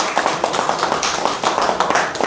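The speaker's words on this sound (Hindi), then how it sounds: "खालिद साहब, जोरदार तालियों से स्वागत करें, वेलकम करें।" Scattered applause at a BJP political gathering welcoming new party members from Uri, Baramulla, with a crowd clapping in irregular bursts at moderate distance.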